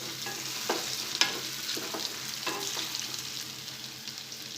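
Steamed dudhi (bottle gourd) muthiya are gently tossed with oil in a pan, light spatula scrapes and taps over a low steady sizzle, close and moderately quiet, with no talk.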